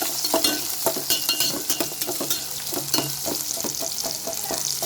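Onions and chili sauté in a pan with spinach and garlic, a loud, close sizzle broken by repeated rhythmic stirring scrapes of a spoon against the pan.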